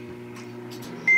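A microwave oven hums steadily while heating ramen, then gives a single sharp, loud beep at the end of cooking.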